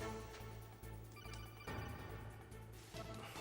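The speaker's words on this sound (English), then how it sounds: "Man, phone call." An incoming codec call rings in the video game Metal Gear Solid, a repeating electronic tone set against a dense, noisy game soundtrack.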